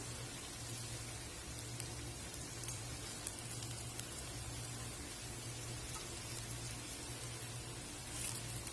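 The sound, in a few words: tapioca fingers deep-frying in oil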